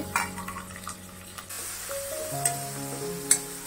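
Garlic, curry leaves and a full spoon of asafoetida sizzle steadily in a pan of hot oil, a soft continuous crackle with occasional light clicks of a spoon stirring, with no talking.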